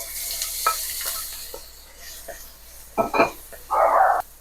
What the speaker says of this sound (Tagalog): Igisa na natin guys tong sibuyas at saka bawang